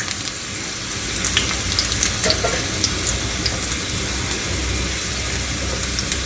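Ginger pieces fry over a medium flame for a South Indian chutney, giving a dense, continuous crackling sizzle with small pops and a slight swell in the middle, close and fairly loud throughout.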